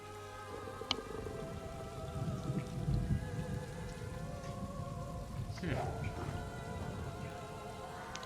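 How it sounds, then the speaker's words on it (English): Steady in-game rainfall in Elder Scrolls Online, a dense hiss of drops on surfaces with faint low rumbles like distant thunder, continuous and even throughout. "Started to rain."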